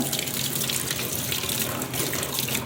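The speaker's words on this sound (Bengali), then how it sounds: "দেখো মুখ ধো, কিভাবে মুখ ধুতে হয় দেখাও।" A child washing their face under a running tap, water gushing steadily and splashing into a sink, close and continuous without pause.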